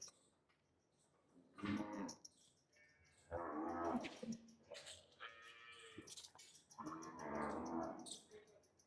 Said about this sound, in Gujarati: ગાયો બધી જુઓ